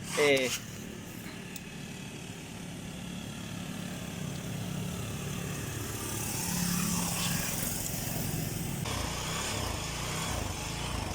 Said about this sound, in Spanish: ya entonces tenemos aquí la motocicleta encendida